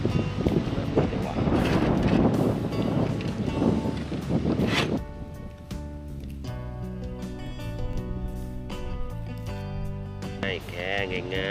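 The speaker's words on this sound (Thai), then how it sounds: "วันนี้ลมแรงมากเลย" Strong wind buffets a jungle campsite beside Kiritharn Dam in Chanthaburi, making a loud, rushing broadband roar for about five seconds. Music with sustained tones then takes over.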